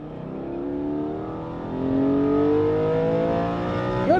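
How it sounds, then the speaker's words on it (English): A Porsche 718 GT4 with a flat-six engine and carbon ceramic brakes runs hard on a race track, heard from inside as the engine climbs steadily through the revs, eases briefly, then pulls again, loud and continuous. "here we are at the track with the 718 GT4"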